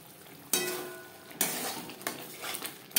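Ground masala spices for a pomfret fish curry are stirred and fried in a pan over low to medium flame, with a steady soft sizzle broken by several sharp scrapes and clinks of a spoon against the pan.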